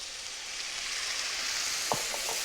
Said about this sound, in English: The garlic and the shallots and parsley together. Just about 2 minutes on the saute pan.